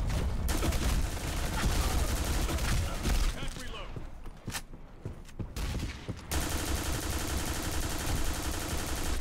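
Rapid automatic gunfire rattles in dense, continuous bursts during a Black Squad shooter match, loud and close, briefly thinning before resuming, with voices talking over it.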